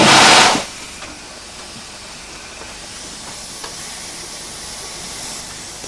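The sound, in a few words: steam locomotive engine hissing steam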